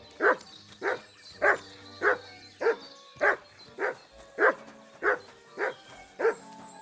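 A dog in Kingdom Come: Deliverance 2 barks about ten times at a slow, even pace, each woof clear and moderately loud against a quiet background, with no talking.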